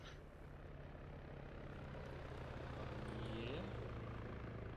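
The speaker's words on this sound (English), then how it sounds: "if that chopper can cover us, we can drag the last 3 guys that are alive and get out of here" A helicopter flies over an Arma 3 combat scene, producing a steady, low rotor and engine drone that swells slightly and holds throughout.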